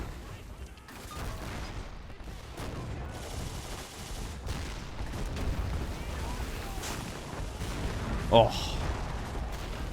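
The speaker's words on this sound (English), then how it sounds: "Three Stuks back here, providing some sort of battery fire there at the German position" Artillery battery fire in the video game Men of War Assault Squad during a 1940 German invasion of France battle, a dense rumbling barrage with overlapping distant booms and one sharper blast near the end, with a brief voice.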